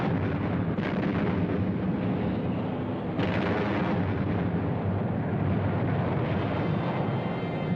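Naval gunfire from U.S. warships bombarding the shore at Okinawa in wartime film footage: a continuous loud, rumbling roar with a couple of abrupt blast onsets, old recording hiss throughout.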